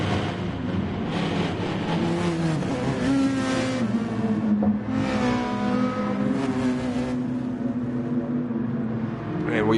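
GT Sport race cars on a formation lap at Dragon Trail Gardens in a multiclass SuperGT field, with steady droning engines rising and falling in pitch as they rev, running continuously and fairly loud throughout.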